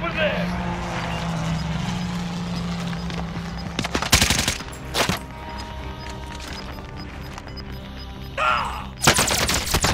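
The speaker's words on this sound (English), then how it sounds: "The other team shooting at him." Hostile gunfire in a video game: bursts of rapid automatic shots, some close and loud, others distant, interspersed with engine hum and players talking over it.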